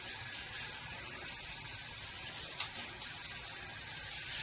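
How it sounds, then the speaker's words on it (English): Outer spray setting of a MakeFit filtered shower head with handheld combo runs as a steady, close hiss of water, with a couple of faint knocks partway through. "On a spray head, you have this outer spray."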